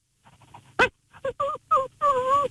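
A voice imitates a sad dog, with a sharp sniff followed by several high, wavering whimpers that end in one longer drawn-out whine, close by.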